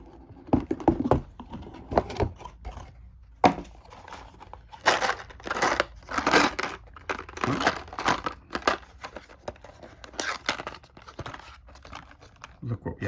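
A D&D Essentials Kit box being opened and unpacked, with close crinkling, tearing and rustling of cardboard and plastic in bursts, while a person talks over much of it.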